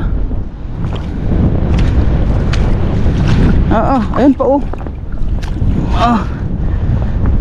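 Strong wind roars and buffets the microphone steadily throughout, with a brief voice and some bird-like chirps cutting through the rumble.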